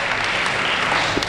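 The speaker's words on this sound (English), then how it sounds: "I wasn't supposed to clap." Audience clapping at a school winter athletic assembly in a hall, a dense wash of applause heard throughout the brief moment.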